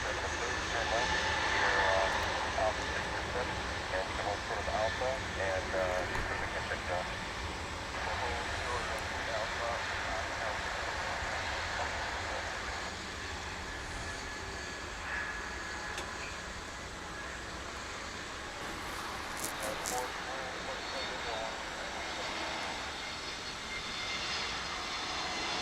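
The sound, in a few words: Frontier airliner jet engines rolling for takeoff at DFW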